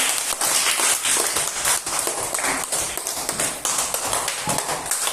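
Third-grade children in a classroom break into dense, sustained applause for everyone after a dramatization, many hands clapping rapidly and loudly throughout with no pauses.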